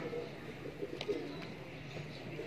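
Young racing pigeons during flight training, heard as faint, soft cooing and light bird sounds over quiet outdoor background noise.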